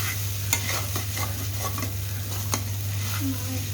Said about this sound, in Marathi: अशा प्रकारे आता हे पोहे जसं आपण हलवतो तसं हलवत राहायचं.